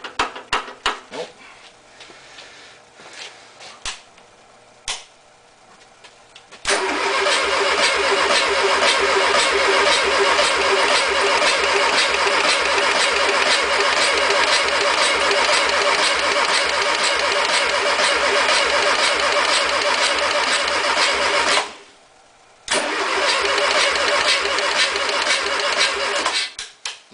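A VW 1600 engine cranks with a rapid rhythmic chugging at first, then runs loud and steady for about fifteen seconds, cuts out briefly, and fires up again; faint voices are present early on.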